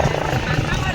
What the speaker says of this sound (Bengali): আর হেলিকপ্টার এত জ্বালাতন করছে,